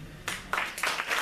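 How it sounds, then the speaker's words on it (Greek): An audience claps for a tribute at a Greek event, a scattered, moderately loud burst of applause that swells in several waves with no voices over it. "Αυτό το χειροκρότημα είναι"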